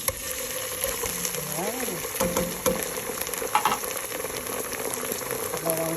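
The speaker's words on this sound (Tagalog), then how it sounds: "then ilagay na natin ang sardines" Sardines hit a hot pan and fry with a steady crackling sizzle, close and constant, with occasional clinks and scrapes of stirring and a voice speaking briefly.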